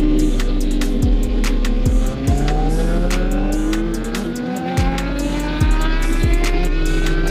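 A Honda CBR600 motorcycle engine revs loudly and repeatedly as riders pull away, its pitch climbing in a series of rising sweeps over a steady low drone, with no talking.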